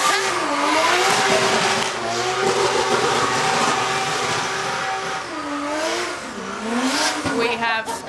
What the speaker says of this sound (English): Now for a little bit of a donut.